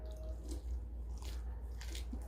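Quiet, close bites and wet chewing on fried shrimp, with soft crunches and squishes over a low background hum.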